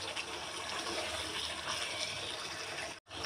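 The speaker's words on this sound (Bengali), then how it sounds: "লিকুইড দুধটা দিয়ে দিলাম, হাফ কাপের মতো দিয়ে দিয়েছি।" Half a cup of liquid milk pours into a pot of whole chicken roast, a steady close gushing, splashing flow that runs throughout and cuts off abruptly near the end.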